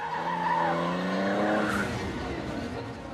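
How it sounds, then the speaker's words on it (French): Race cars skid hard coming out of a corner under heavy throttle, tires squealing in rising, sustained tones over a roaring engine, loud and close. "Les pilotes dérapent énormément, appuyant très fort sur l'accélérateur pour sortir du virage."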